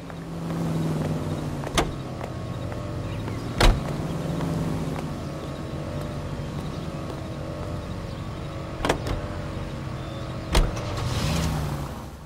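A car drives steadily in the L.A. Noire video game, giving a continuous mid-level engine and road hum that shifts gently, broken by a few sharp clicks and thumps. No talking is heard.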